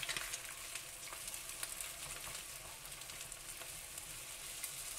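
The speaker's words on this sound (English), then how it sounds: "just keep stirring until it's completely cooked" Eggs stirred and scrambled in a pan, giving a soft, even sizzle with faint scraping strokes of a utensil throughout, quiet and close, with no talk.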